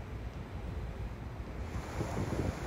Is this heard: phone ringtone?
no